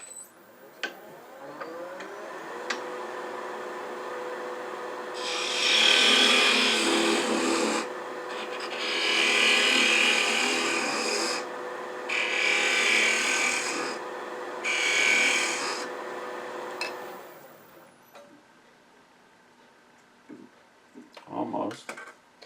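A turned wooden Nordic gonk ornament being sanded on the lathe, several bursts of raspy rubbing a few seconds each with short gaps, over a steady motor hum, with some talk near the end.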